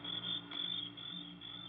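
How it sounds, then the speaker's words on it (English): Crickets shrill loudly and continuously at night in a radio drama effect, a steady high pulsing trill with a faint low hum beneath, close and unbroken by any voice. "there wasn't a sound except the crickets, shrilling so loudly the noise seemed to beat inside my brain"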